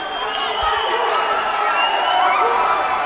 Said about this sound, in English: Listen to the crowd, listen to the noise.